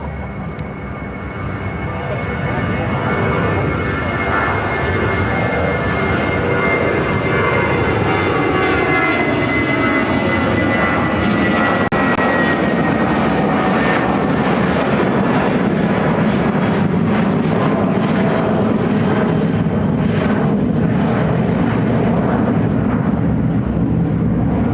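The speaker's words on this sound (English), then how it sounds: "Airlines 439 taking off to Washington Reagan National on the A319." Airbus A319 airliner taking off from Chicago O'Hare, a loud, sustained jet roar that builds early and then holds for the whole run, with shifting engine whine tones and some wind buffeting on the microphone.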